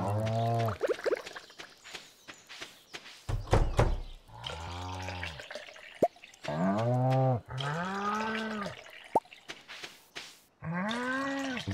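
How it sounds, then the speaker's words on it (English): Cows moo again and again in the farming video game Stardew Valley, with long, drawn-out calls coming one after another in a clear series alongside a few short clunks. "cows."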